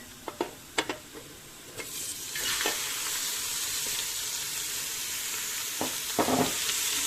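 Beef heart hits a pan of browned onions: a few sharp clicks and utensil taps, then a loud, steady sizzle of frying that continues while stirring scrapes break through near the end.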